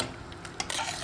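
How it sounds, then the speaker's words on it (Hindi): A spoon stirs chicken with oats in a cooking pot, producing a short, close scraping swish with light clinks against the pot. "साथ साथ चम्मच हिलाते रहेंगे ताकि ये नीचे ना लगे।"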